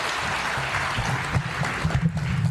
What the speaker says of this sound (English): Once more, a clap of applause for Elizabeth